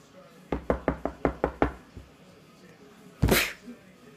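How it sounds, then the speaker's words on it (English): Knuckles rap on wood seven times in a quick, even series, close and fairly loud, followed a moment later by a short, sharp noise like a sneeze. "I knocked on wood."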